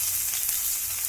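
Hing, chopped ginger and grated coconut sizzle in hot oil with cumin, dried chillies and bay leaf, a steady close frying hiss with no talking.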